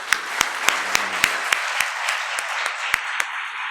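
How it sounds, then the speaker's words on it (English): Conference audience applause with sharp, sparse claps standing out over a softer background of clapping, fairly close and steady, fading slightly near the end. "please join me in thanking all these four outstanding persona of the sustainable world of India by a big round of applause"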